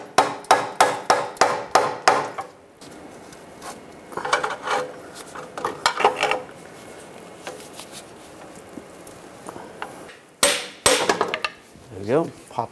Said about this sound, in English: Just giving it a tap with a hammer.